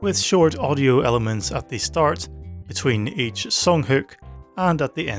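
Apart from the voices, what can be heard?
No distinct noise like a dog, phone or traffic.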